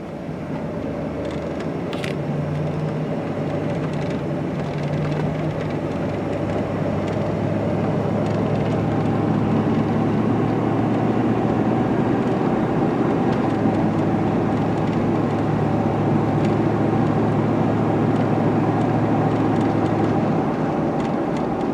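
Inside a 1998 GMC Suburban C1500 SL with a 5.7L V8 on the road, windows up: a steady low engine drone and road rumble run throughout, with even, continuous loudness and no talking.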